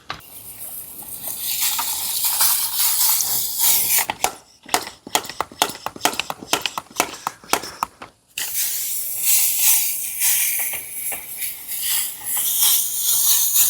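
Hissing bursts of a pressurized spray bottle misting Brake Buster wheel cleaner onto a Corvette C8 Z06's wheels, steady at first, then a run of short sharp spurts before a long continuous spray resumes.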